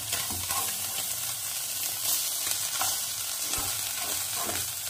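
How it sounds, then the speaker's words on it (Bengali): Small chuno fish frying in oil in a kadai, a steady close sizzle with light stirring and scraping sounds throughout, no voices. "এভাবে মাছগুলোকে ভালো করে ভেজে নেব।"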